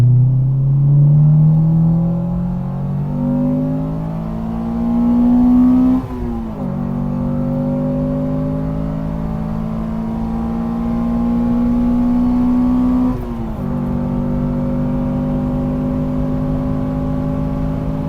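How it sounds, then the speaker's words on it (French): A Honda car engine with VTEC pulling hard through the gears from inside the car, its revs climbing steadily and then dropping at two gear changes, with a loud continuous drone and no talk. "J'espère que tu entendras le VTEC."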